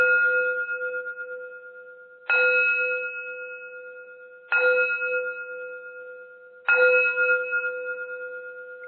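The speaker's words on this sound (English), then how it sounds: "we're going to do the gong again" A gong struck during a guided meditation, four separate strikes about two seconds apart, each ringing clear and loud before slowly fading, with no other sound around them.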